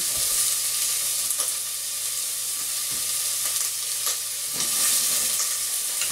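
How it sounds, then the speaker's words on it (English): Onions fry in a pan with a steady, dense sizzle that stays loud and even throughout, broken by a few soft clicks and scrapes of stirring, with no voices. "We're going to stir these onions around."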